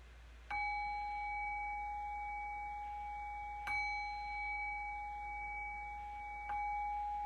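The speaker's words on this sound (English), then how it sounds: "I'll do that by ringing the bell 3 times to cue that." A meditation bell is struck three times, each ring a clear sustained tone that lingers and overlaps the next strike, heard alone against quiet room noise.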